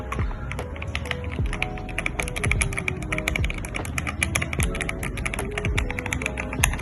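Typing on an old mechanical keyboard fitted with new keycaps: a dense, continuous stream of close, crisp key clacks and occasional heavier thocks, steady throughout with no speech.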